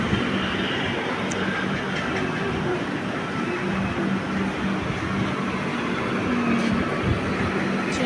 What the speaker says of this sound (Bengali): দেখো আবার একটা প্যাসেঞ্জার ট্রেন চলে আসলো